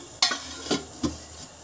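Oil heating in a pan for a tomato chutney tempering, a soft low sizzle broken by three or four brief scraping stirs.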